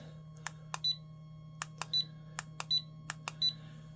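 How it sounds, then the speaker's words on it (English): Repeated short high-pitched beeps from a green laser cross level warning it is out of self-leveling range sound at regular intervals, mixed with sharp clicks, over a low steady electrical hum. "which is all the range that it has to self-level, it'll beep at you"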